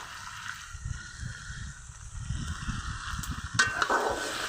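Ash gourd curry with shrimp and green chili stir-fried in a pan at home: a soft, continuous sizzle with gentle stirring scrapes, a sharper crackle near the end.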